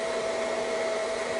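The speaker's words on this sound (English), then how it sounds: "here we can see how the hairdryer is directing the air from roots all the way through" A hair dryer blows air steadily through hair during a straightening blow-dry, giving a continuous even whoosh with a constant tonal whine, close and alone for the whole stretch.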